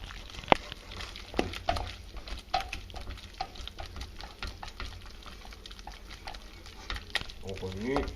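A spoon stirs a thick bolognese sauce in a pot, making faint, soft wet scraping and bubbling sounds with scattered small clicks, under intermittent French speech.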